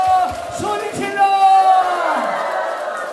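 Students in a singing class shout together in a loud, sustained crowd yell, a voice slides through held notes at the start before the shouting takes over.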